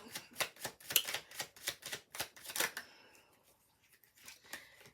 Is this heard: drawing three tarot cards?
yes